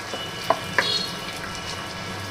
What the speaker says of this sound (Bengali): পেঁয়াজ অ্যাড করে দিলাম এটা ভালোভাবে ব্রাউন করে নিতে হবে